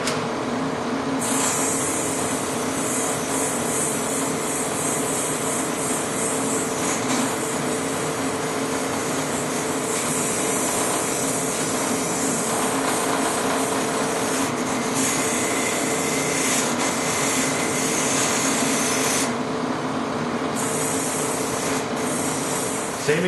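Continuous abrasive rubbing and grinding from a drill press cleaning up a concave object, steady and loud throughout with slight shifts in texture.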